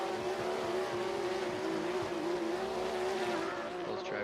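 Drift cars in a racing sim game roar continuously with a steady engine drone and tire squeal layered over it, loud and unbroken throughout.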